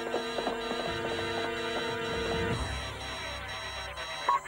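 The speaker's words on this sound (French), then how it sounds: "Le signal d'alarme." A rapid electronic alarm in a French-dubbed James Bond Junior cartoon beeps in a steady repeating pattern for a couple of seconds, then gives way to a lower rumble and hum.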